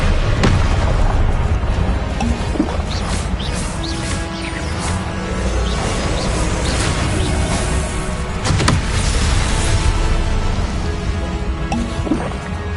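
Repeated booming blasts from the Confringo spell in Hogwarts Legacy, loud and dense, with sharp impacts scattered over a constant rumbling game soundscape and no talking.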